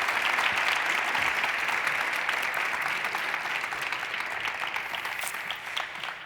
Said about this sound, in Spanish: Pues vamos a darle un gran aplauso a Teresa.